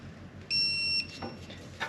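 A single steady electronic beep from a torque tool, sharp and high-pitched, lasts about half a second, followed by faint clicks and quiet rustling.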